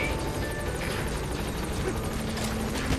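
A helicopter arrives in Metal Gear Solid V: a steady, dense rotor thrum and whine fills the whole stretch without pause, loud and close.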